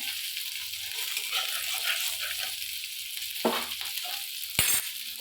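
Spices sizzle steadily in hot oil as turmeric goes into a pan for fried bottle gourd peel, with a brief scrape near the middle and a sharp clink toward the end.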